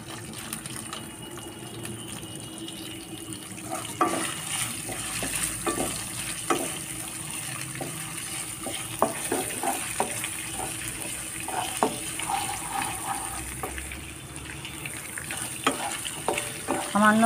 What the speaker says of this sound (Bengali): সামান্য ভাজা ভাজা হলে একটু